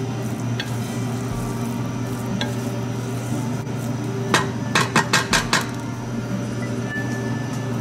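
A quinoa salad with lemon juice is stirred in a bowl, a soft scraping under steady background hum, then a quick run of about six sharp clinks of utensil against the dish near the end.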